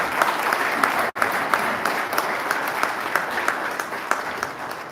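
A room full of people applauds the SGR Safety and Security team at a certificate ceremony, dense sustained clapping with one brief dropout near the start, no voices over it.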